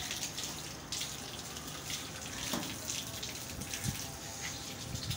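A cold water cooler tap runs in a quiet indoor spot at a hospital, a faint steady trickle and splash with a few soft clunks, heard alone.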